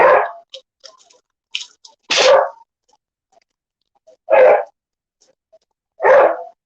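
Puppies bark in a few sharp, high yelping bursts spaced a couple of seconds apart, with faint clicks and rustles between them.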